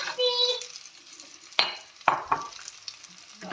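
Onion and cashew nuts stirred in a hot pan, with a low sizzle of frying and several sharp scrapes and clinks of a utensil against the pan, close by, with no talk.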